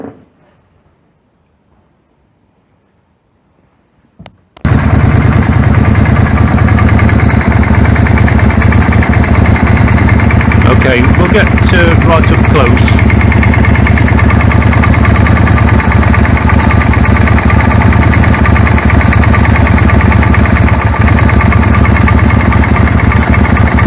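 A Suzuki Intruder motorcycle with an ignition problem starts after a short silence and idles loudly and steadily up close, a continuous rough drone with faint ticking, and someone speaks briefly over it.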